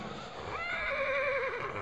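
A young Nukra stallion at the Sarangkheda horse fair lets out a loud, close neigh, a long quavering whinny that rises and trembles steadily for nearly two seconds with no talk.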